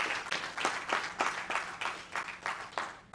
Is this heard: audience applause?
yes